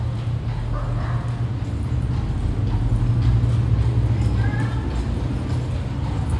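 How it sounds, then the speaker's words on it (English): Hooves of a horse pulling a carriage clip-clop along a street in Paducah, Kentucky, faint and somewhat distant under steady wind and low traffic-like rumble throughout. "Here comes another carriage."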